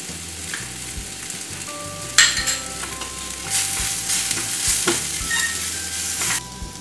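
Turmeric and coriander powder fry in hot oil for kadai paneer, a steady loud sizzle broken by repeated scraping strokes of a spoon stirring through the pan.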